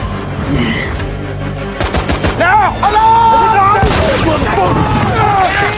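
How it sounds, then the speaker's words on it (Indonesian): Heavy tank cannon booms mixed with rapid machine-gun bursts in a World War II film, loud and close, with voices briefly heard amid the din. "Dengan bermodalkan peluru meriam dan senapan mesin yang dipegang oleh Norman, mereka semua pun mulai membabi buta menembaki semua orang"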